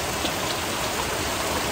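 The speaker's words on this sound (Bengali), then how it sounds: "এই যে এখানে প্রচুর বৃষ্টি হচ্ছে, প্রচুর প্রচুর।" Heavy rain falls in a dense, constant roar that fills the short stretch, close and loud with no voices.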